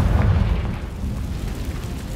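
A Confringo blasting spell from Hogwarts Legacy explodes in a heavy, low boom that hits at once and then rumbles on as a dense blast tail, loud and close, with no voices.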